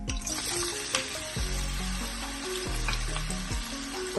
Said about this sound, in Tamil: இப்போ வெங்காயத்தை போடுவோம்.